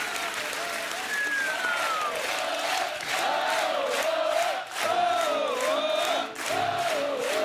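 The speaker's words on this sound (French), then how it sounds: "Vous avez vu ces applaudissements?" Studio audience at a French TV entertainment show applauding and cheering steadily, with whoops and shouts rising above the clapping and a brief dip midway, while voices talk over it.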